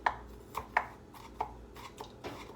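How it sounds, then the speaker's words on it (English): A large knife mincing ginger knocks against a cutting board in quick, uneven close chops, about six to eight sharp taps, alone without talk. "I'm just mincing the ginger with this large knife"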